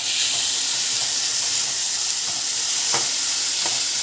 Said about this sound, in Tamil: ஸோ இப்போ வந்து பார்த்தீங்கன்னாக்கா நம்ம வந்து வெங்காயம் வந்து நல்லா வதக்கிட்டு இருக்கோம்.